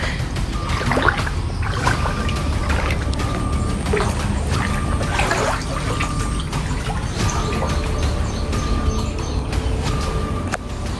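Knee-deep flood water surrounds a house in Kuttanad, giving a constant watery wash with splashes and trickles and a steady background hiss, and no talking.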